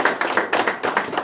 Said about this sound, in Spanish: recibamos también con fuertes aplausos a Toribia, a Dina y a Luzmila